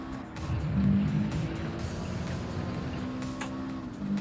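Subaru WRX STi with a swapped Porsche engine lapping a track in Gran Turismo 7, a loud sustained engine drone with shifting pitch and faint tire noise throughout.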